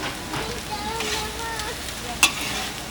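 Onions and peppers sizzle in a paella pan over a grill for a large seafood paella, a steady crackling fry with stirring scrapes and one sharp metallic clink near the end.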